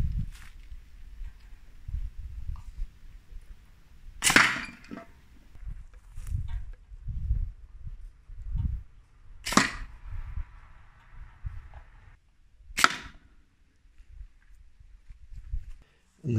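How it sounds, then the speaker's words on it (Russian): Homemade fletched darts fired from a compound pulley slingshot give three sharp, loud snapping shots spaced several seconds apart, with softer handling thumps and rustles between them. "Теперь пару выстрелов сделаю"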